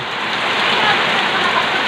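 Heavy rain roars in a thick, steady wash of noise, close and constant for a brief moment.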